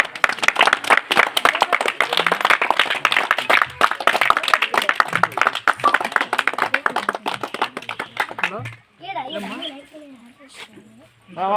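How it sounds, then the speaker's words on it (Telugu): A crowd claps steadily at an Ambedkar Jayanti celebration in Ramasamudram, dense sharp applause close by for several seconds, then it stops and a voice talks over a faint background. "క్లాప్స్ కట్టండి క్లాప్స్ కట్టండిరా"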